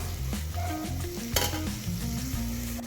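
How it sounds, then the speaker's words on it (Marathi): Tomatoes and spices sizzle in a hot pan for Maharashtrian pea rice while a utensil stirs and scrapes against the metal in quick, irregular strokes. One sharp clatter stands out midway, and no one speaks. "तर टोमॅटो मऊ होईपर्यंत आपल्याला हे परतून घ्यायचं"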